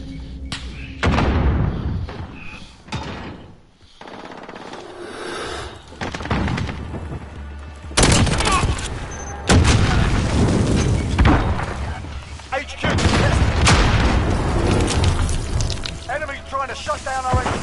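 Call of Duty: Modern Warfare multiplayer gunfire and explosive thuds hit in loud, repeated bursts of shots and booms, with bits of in-game voice chatter mixed in between.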